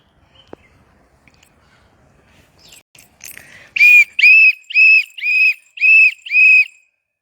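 A person whistles outdoors in Douala, Cameroon, giving six loud, clear, evenly spaced whistle notes of similar pitch after a few seconds of quiet background rustle and faint noises.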